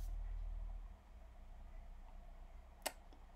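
A single computer mouse button clicks once, a short sharp tick near the end against a faint low background hum in an otherwise quiet room.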